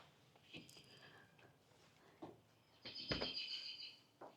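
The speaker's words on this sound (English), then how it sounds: "You hear the birds?" Bird chirps outdoors at a country property in Blue Springs, Missouri, a few short calls scattered across the clip with a brighter burst of chirping near the end, fairly faint amid ambient background noise.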